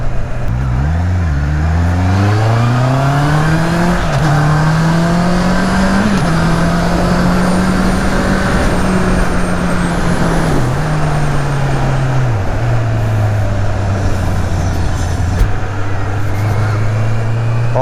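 A Honda CB650R motorcycle engine revs hard above 6000 rpm and climbs through its six-speed gearbox, its pitch rising and dipping at each shift, loud and close, with wind noise throughout.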